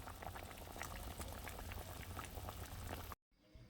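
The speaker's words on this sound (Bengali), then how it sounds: "এই যে দেখুন ঝোলটা কিন্তু অনেকটাই ফুটে গেছে" Mustard fish curry gravy with green chillies bubbling steadily at a rolling boil in a pot, a close, continuous dense gurgle that cuts off abruptly near the end.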